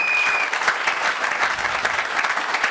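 A church congregation applauding during a Sunday service, a dense, steady roar of many hands clapping throughout, fairly loud and close, with no one speaking over it.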